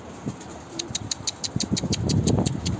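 A male pet bird calls with short, repeated cooing notes close by, over a low engine-like hum in the background.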